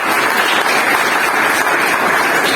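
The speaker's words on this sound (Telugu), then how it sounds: "క్లాప్స్ కొట్టండి." Junior college students at a Women's Day event clap together in a dense, continuous burst of applause that stays loud and even throughout.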